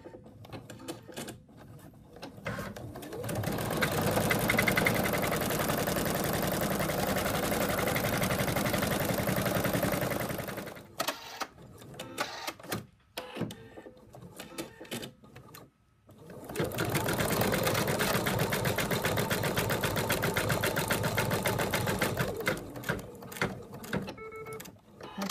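An embroidery machine sews satin stitch on the wings of a ladybug purse, running in two long, loud, steady stretches of fast rattling stitching separated by a brief lull.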